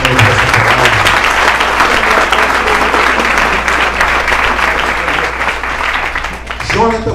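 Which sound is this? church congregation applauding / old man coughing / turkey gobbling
church congregation applauding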